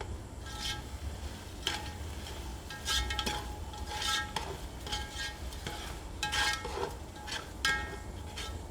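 Onions and tomatoes sauté with rock salt in a pan for chicken biryani, a soft, steady sizzle under repeated scraping stirs of a spoon, close and moderately quiet.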